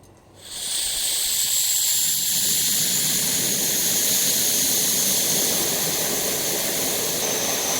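Camping stove burner roaring after the valve opens, a loud, close, steady hissing rush that swells up in the first second and then holds constant.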